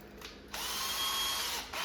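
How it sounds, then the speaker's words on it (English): Power drill pre-drilling small screw holes in a cocktail arcade cabinet, a short whine, then a longer steady high-pitched run of just over a second before stopping, close and alone. "I am going to pre-drill these screws with a real small bit"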